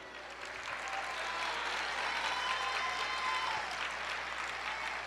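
A church congregation applauds in a steady, sustained wash of clapping that swells slightly and holds for several seconds, heard at a moderate distance.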